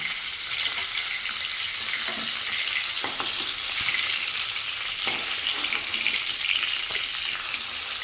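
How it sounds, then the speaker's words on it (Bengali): Katla fish frying in oil in a wok, a loud continuous crackling sizzle with occasional sharper pops and spatters, heard up close with no talking. "মাছ ভাজা হয়ে গেছে"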